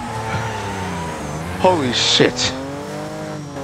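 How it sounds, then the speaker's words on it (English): A car drifting in the Wreckfest racing game, engine droning steadily while tires squeal in short, sharp bursts midway, with an excited voice exclaiming over it. "The drifting on this car is pretty tough."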